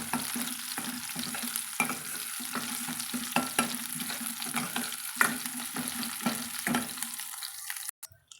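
Small country onions sauté in a pan, a steady sizzle broken by repeated scrape-and-stir strokes at a regular rhythm, close and moderately loud, ending in a sharp clatter.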